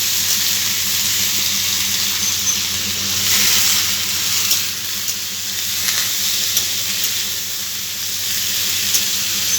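Cut potatoes frying in oil in a pan for a vegetarian potato curry, a loud, dense, unbroken sizzle heard up close and alone, with faint occasional stirring ticks.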